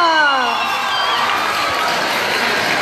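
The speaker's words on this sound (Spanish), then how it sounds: "Vamos a recibirlos con un fuerte aplauso" A school audience at a comparsa presentation in Juigalpa, Nicaragua, applauds and cheers, with a wash of clapping, shouting and whoops from children and adults. Upbeat music fades out at the start.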